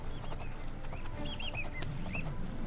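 Birds chirping in The Elder Scrolls IV: Oblivion, a scatter of soft, short whistled calls over a steady low ambient rumble, fairly distant and unhurried.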